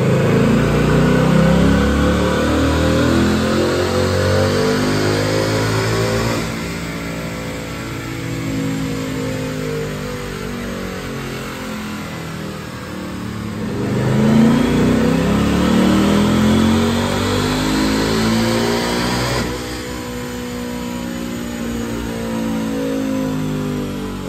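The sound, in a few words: Mustang GT V8 engine dyno pull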